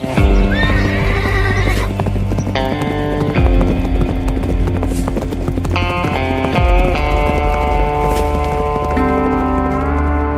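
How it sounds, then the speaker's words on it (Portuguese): Wild mustangs' hooves clip-clop in a rapid rhythm while the horses neigh and whinny loudly, close by. "ecoa o som de cascos livres"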